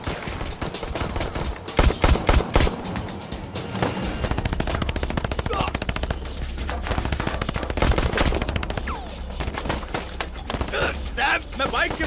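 Repeated bursts of gunfire and rapid machine-gun fire ring out in a dubbed Hollywood action movie about a bank heist. Loud volleys and scattered single shots sound over a low rumbling score, and voices call out between the shots.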